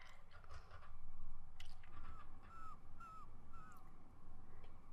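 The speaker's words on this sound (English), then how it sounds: "Ugh, seagulls." Seagulls cry in the video game Sonic Adventure 2 Battle, giving a few short, rising squawks in quick succession. The cries are faint and sit over a low background of game sound, with no speech.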